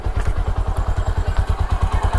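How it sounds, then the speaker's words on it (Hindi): A Hero Platina H-Gear motorcycle engine is running during carburetor adjustment, its fast, regular exhaust pulses loud and close and holding fairly even. No voices are heard. "बाइक का आरपीएम इंक्रीज़ करेंगे नॉर्मली यहीं से।"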